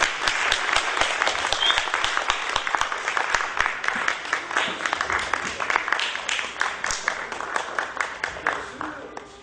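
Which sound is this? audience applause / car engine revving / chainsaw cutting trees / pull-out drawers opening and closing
audience applause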